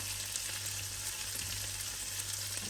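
Salmon and potatoes frying in a hot pan, a steady, close, even sizzle with faint crackles and a low hum beneath, no talk.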